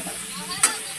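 Potatoes and spices sizzle steadily in a pan as they are sautéed, a continuous close hiss with a brief sharper crackle partway through.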